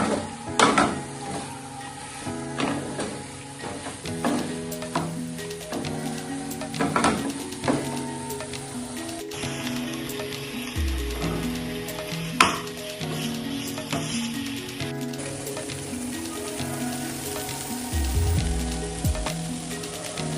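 Chicken with fenugreek leaves sautéing in a pan for a Bengali methi chicken, with a steady sizzle, frequent scrapes and knocks of stirring, and occasional louder clatters.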